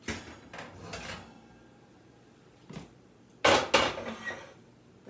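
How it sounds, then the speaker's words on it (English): A heavy Dutch oven of short ribs goes into an oven, giving scattered metallic clanks and scrapes, with a pair of loud sharp clatters near the end and quieter handling between. "I'll put this Dutch oven right over in the oven."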